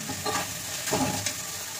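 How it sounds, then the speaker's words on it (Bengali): Ginger and green chilli hitting hot oil in a pan, a close dense sizzle with a couple of brief stirring scrapes over a short moment, no speech. "এই দেখো একটু আদা আর কাঁচা লঙ্কা এর মধ্যে দিচ্ছি"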